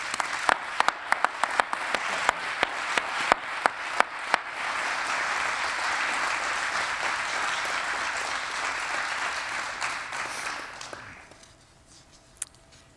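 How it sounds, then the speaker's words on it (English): Audience applause at a community awards ceremony, starting with a few sharp individual claps that swell into dense, steady clapping from a large crowd before fading out near the end. "when you're clapping for me, you're really clapping for Tatiana and her team"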